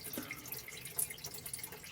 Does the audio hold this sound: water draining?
yes